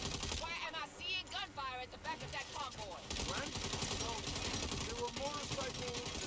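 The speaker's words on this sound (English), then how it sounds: "I shoot this guy instead." Gunfire at an enemy in the Saints Row video game, rapid bursts of shots in quick succession, fairly faint and mixed with other game sounds and a talking voice.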